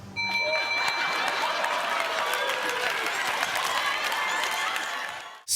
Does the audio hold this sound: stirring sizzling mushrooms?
no